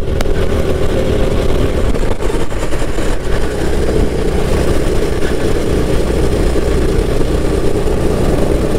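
A heavy tractor engine in a racing video game drones continuously at a loud, steady pitch, rumbling without pause throughout.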